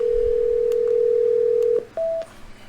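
Telephone dialing tones play through a Bluetooth speaker: a long steady dial tone followed by one short higher keypad beep, loud and clear with no talking.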